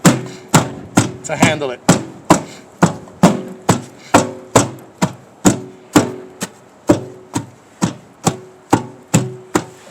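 Compost material is chopped in a garden compost area with about twenty sharp, evenly spaced chopping thuds at a steady rhythm. The chops are close and loud, and a voice speaks briefly near the start.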